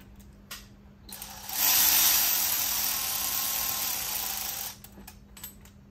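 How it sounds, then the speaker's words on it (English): Hand ratchet snugging up bolts on a Ford 6.0 diesel truck during water pump and oil cooler work, a loud steady buzzing run of clicks lasting about three seconds, close up, with quieter rattles before and after and no talk. "I'm just gonna snug these up with my ratchet"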